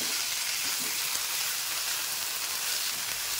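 Moringa drumstick pods frying in a pan for a curry: a dense, even hiss of sizzling oil throughout, close and steady, with no talk.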